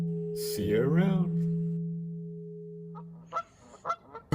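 Two birds give goose-like honks, a drawn-out wavering call over a steady humming tone, followed after a pause by a few short, sharp chirps.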